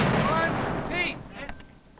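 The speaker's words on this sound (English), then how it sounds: "Their cannon will pound the walls until they are breached." Muzzle-loading cannon firing during a re-enactment of the siege of Fort Stanwix: booming blasts and rumble under shouted commands and talk, with the loudness tapering off toward the end.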